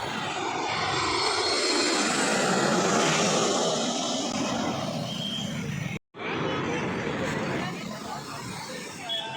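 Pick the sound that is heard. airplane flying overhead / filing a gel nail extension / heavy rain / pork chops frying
airplane flying overhead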